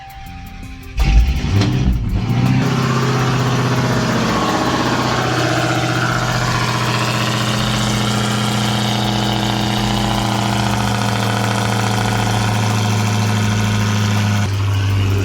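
An Audi car engine cranks and catches with a loud burst, then settles into a steady, rumbling idle that carries on evenly for many seconds, heard close with no talking.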